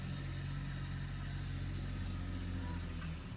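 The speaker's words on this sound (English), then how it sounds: "You can hear our tractor going in the background there," A farm tractor runs in the background while animals are being fed, giving a faint, steady low engine drone that holds constant throughout.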